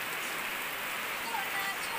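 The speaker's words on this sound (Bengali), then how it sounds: "পুরা আধা ঘন্টা থাকি বৃষ্টি পড়ে আছে, বৃষ্টি থামার কোনো নামেই নাই" Heavy, steady rain falling outdoors near a house, a dense even hiss of drops on surfaces that continues without pause.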